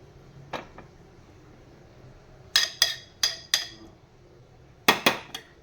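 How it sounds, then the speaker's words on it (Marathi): A metal lid set onto a pan of raw banana cooking on the stove gives sharp clanking knocks, one early then a quick run of four and a later pair, close and fairly loud with no talk. "त्याच्यावर झाकण ठेवून मी शिजवून घेते"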